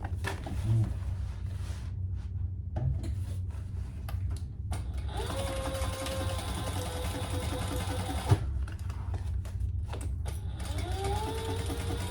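A sewing machine stitching a seam on a tote handbag, a fast, soft mechanical whir and rattle running in short bursts with pauses between, close and fairly quiet.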